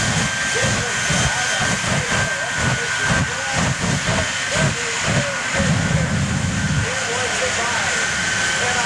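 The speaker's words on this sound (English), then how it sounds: "this is the one and only Shockwave Jet Truck" The Shockwave jet truck's jet engine at an air show gives a constant hissing, steamy roar that stays loud throughout, while an announcer talks over it.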